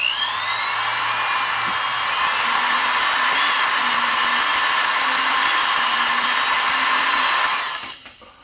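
High-pitched power carving tool whining steadily as it shapes the mouth of a wooden Santa ornament, loud and close, running without dust collection and winding down at the end.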